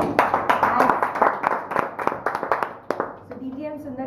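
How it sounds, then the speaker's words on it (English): Applause at a Toastmasters club meeting, a few people clapping quickly and unevenly for about three seconds before it tapers off and a voice begins. "Yes, a round of applause."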